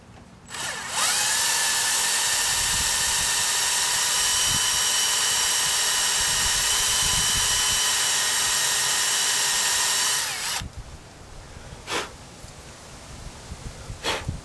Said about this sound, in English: Okay, so I'll drill it out a little bit more here.